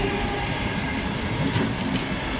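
A Sydney suburban train pulls away from the platform at Asquith station, a loud, close, continuous rumble of wheels and carriages with faint rhythmic clacking.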